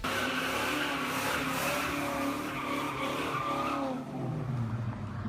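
A 1969 Dodge Charger R/T with a 426 cubic-inch Hemi V8 roars loudly as its tires squeal in a long continuous skid, the screech fading near the end.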